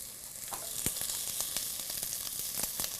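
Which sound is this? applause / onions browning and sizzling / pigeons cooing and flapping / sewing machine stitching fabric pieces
onions browning and sizzling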